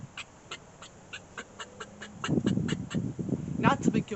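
A handheld squirrel call imitates a squirrel's bark, a quick, regular run of sharp chirping barks about three per second, close and clear, joined partway through by louder rustling and scuffing noise.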